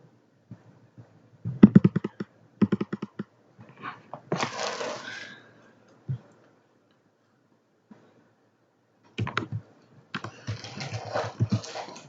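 A computer keyboard is typed on in short clusters of close, sharp key clicks separated by silent gaps, with no talking.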